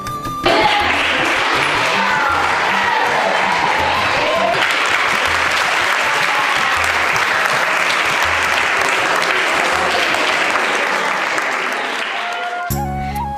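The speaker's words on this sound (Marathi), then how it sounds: "आम्ही हॉलमध्ये जाताच हसत मुखानं आणि जोरात टाळ्या वाजवून आमचं स्वागत करण्यात आलं" Children in a hall clap loudly and continuously to welcome arriving guests; the dense, sustained applause fills the room for most of the clip before cutting off abruptly near the end.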